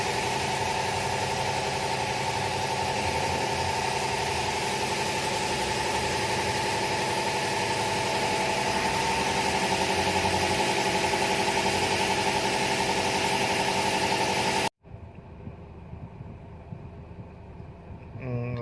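A Chevrolet Captiva 2.4L engine idles rough with a vibration fault, a steady loud hum and rumble running unbroken for most of the stretch before cutting to a much quieter engine drone near the end.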